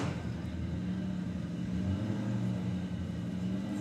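A Volkswagen Beetle race car runs on track during a qualifier at a Bug Jam festival, its engine a steady mid-distance rumble with slight rises in pitch, set against a constant outdoor hum.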